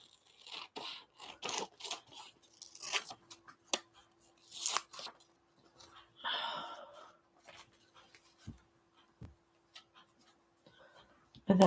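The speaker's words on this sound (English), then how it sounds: "We could just cut away some of this here." Scissors cutting paper for a black-and-white journal page, a series of short crisp snips and rustles of paper handling, fairly close and quiet, with a few soft knocks and no talking.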